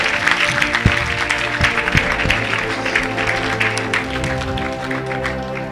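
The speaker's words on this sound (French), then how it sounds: "Somebody put your hand together" Church congregation applauding during a French-language evangelical service, a dense, steady wash of clapping throughout with sharper individual claps standing out and music or voices underneath.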